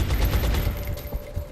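Video game gunfire in a short burst of rapid, booming shots, close and continuous with no talking.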